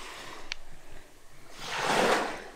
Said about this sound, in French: Et le bruit des vagues comme ça,